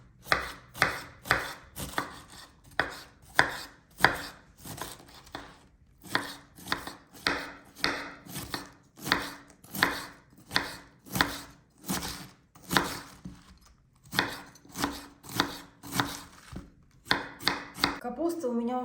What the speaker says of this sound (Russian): Капусту надо измельчить как можно мельче.